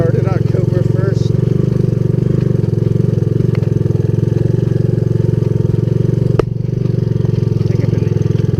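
A Honda ATC200S three-wheeler engine idles loudly and steadily nearby with a rapid mechanical clatter in its running, broken by one sharp knock.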